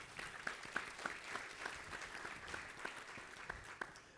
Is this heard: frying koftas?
no